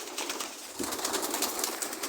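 Pigeons in a Polish fancier's loft, a pen of young birds kept for sale, coo and rustle their wings in a continuous, moderately close chatter. A slightly louder flurry comes in partway through.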